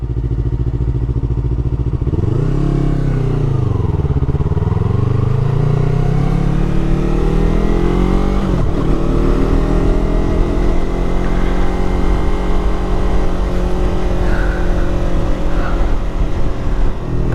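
A 2019 Yamaha R3 motorcycle accelerates on a highway or city road, its engine note climbing and dipping through gear changes as a steady, loud roar of wind and engine runs throughout.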